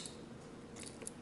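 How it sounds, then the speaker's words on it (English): The small scissors of a Swiss Army knife being handled, a few faint, quiet clicks and snips over soft background noise. "Got the scissors"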